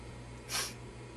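A voice imitates a disdainful sniff: one short, breathy nasal burst in the middle of the clip, close and fairly quiet over a low steady hum, with no talking.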